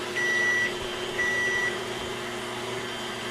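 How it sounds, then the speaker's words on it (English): A kitchen timer goes off after three minutes while chocolate cream pie pudding is made, giving two even electronic beeps over a steady low hum from a running appliance. "All right, our 3-minute timer has went off."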